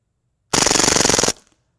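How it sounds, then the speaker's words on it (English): A full-auto CO2 BB gun dumps an 18-round magazine in under a second, a loud, close, rapid burst of evenly spaced shots that stops sharply and leaves a brief hiss. "This is the 4th mag, same CO2 cartridge. I'm just gonna do full mag dump."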